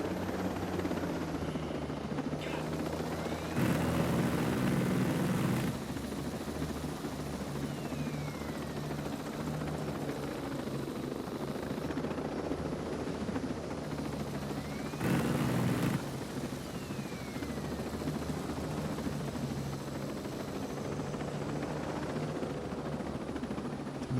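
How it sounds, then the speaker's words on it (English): A helicopter in the video game Ghost Recon Breakpoint churns with a steady low rotor drone throughout, swelling briefly twice, with no talking. "It's dangerous to play around with this helicopter, especially because it's so flimsy."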